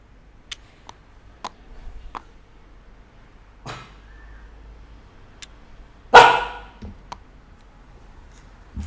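A dog in a home setting gives a few sharp barks spread over several seconds, with scattered clicks and short knocks in an otherwise quiet room, plus one louder burst near the end.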